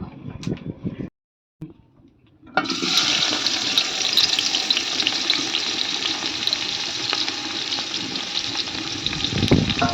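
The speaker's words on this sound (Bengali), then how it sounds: "এই পেঁয়াজগুলো দিয়ে বেরেস্তা ভেজে নেব" Sliced onions frying in hot white oil in a pot to make birista for a chicken dum biryani: a short quiet gap, then a loud, steady, close sizzle that continues without talk.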